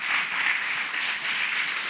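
A church congregation applauds together, a dense steady roar of many hands clapping that fills the whole moment without a break.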